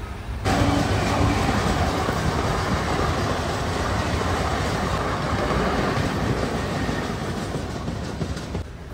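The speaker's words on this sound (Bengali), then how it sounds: "ওর অন্যায় হলো আমাদের সাথে, আমাদের ট্রেনকে ওভারটেক মেরে লোকাল ট্রেন বেরিয়ে গেল" A local train rushes past an express train, a loud, continuous rumble and clatter of wheels and carriages sustained close by for several seconds before easing slightly at the end.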